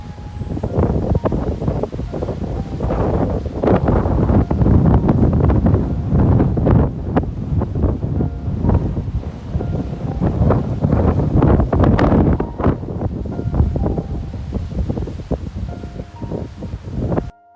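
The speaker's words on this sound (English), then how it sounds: "Here's an example of the wind." Strong wind buffeting the microphone at an off-grid property in Australia, loud continuous gusty roaring and rustling that rises and falls with no talk.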